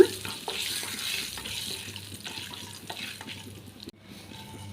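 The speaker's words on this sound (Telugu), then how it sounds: "శనగపప్పు అయితే దోరగా వేగాలండి, ఎర్రగా" Chana dal frying in hot oil in a kadai, a soft, steady sizzle with faint stirring scrapes and clinks, fairly quiet throughout.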